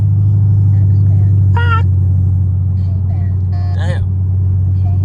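A straight-piped Chevrolet Camaro SS rumbles at night in a tunnel, a steady, loud low drone that holds through the whole stretch while people talk over it.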